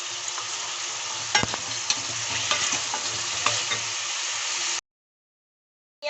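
Turmeric and other ground spices fry in oil in a pan for an eggplant curry, giving a close, steady sizzle with a few spoon knocks and scrapes from stirring, then cutting abruptly to silence.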